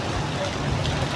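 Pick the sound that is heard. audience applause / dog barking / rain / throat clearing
rain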